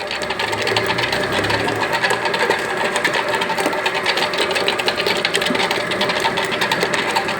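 A wet grinder churning soaked rice and spinach batter for dosa runs steadily throughout, a dense continuous mechanical whir and rattle with rhythmic knocking, close and loud with no talk.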